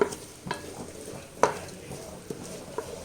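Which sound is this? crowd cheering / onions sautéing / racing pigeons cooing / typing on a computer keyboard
onions sautéing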